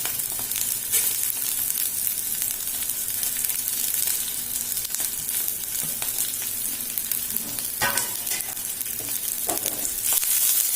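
Coriander seeds fry in a pan for a fenugreek-leaf chutney, giving a steady, close hiss and crackle throughout, with a few sharper scrapes and pops and no voices.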